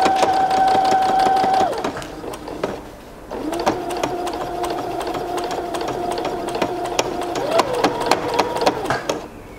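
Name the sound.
sewing machine stitching fabric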